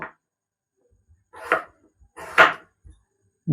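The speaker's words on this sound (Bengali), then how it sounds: "কোরমার জন্য কিউব কাটিং করে নেব" A knife cuts potatoes and pointed gourd into cubes for a vegetarian korma, giving a few separate, fairly close chops with quiet gaps between them and no talking.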